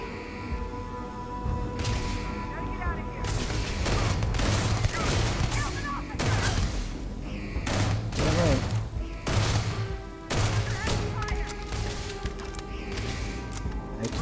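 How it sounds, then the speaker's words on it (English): Repeated gunfire from a Starfield shootout, with shots coming from behind the player, rattles in irregular bursts for the whole stretch, loud and close, with brief lulls between volleys. "Shooting behind me."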